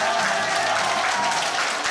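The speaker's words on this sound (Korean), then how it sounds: "큰 박수 부탁드리겠습니다." An audience at a family-month dog-training lecture applauds to welcome the trainer, a steady wash of clapping from many hands that holds evenly and fairly close throughout.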